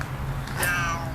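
A single short cat meow, fairly faint and close, over a low background hum.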